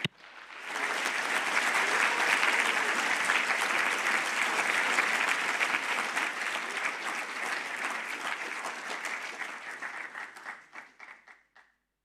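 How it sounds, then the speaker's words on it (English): At the 2023 BERMUN Model UN opening ceremony, a large audience gives a long round of applause for the student officers: sustained, thick clapping that holds steady for several seconds, then thins out and fades to a few last claps. "Let us now give a final big round of applause to all of our student officers"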